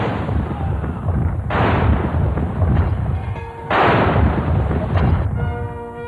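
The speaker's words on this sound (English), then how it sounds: "From the wharf of the Tower of London, the Honourable Artillery Company is firing a 41-gun salute." Cannon salute fired by the Honourable Artillery Company from the wharf of the Tower of London, a 41-gun salute; two heavy booming blasts about two seconds apart ring out loud and near over a continuous rumbling background.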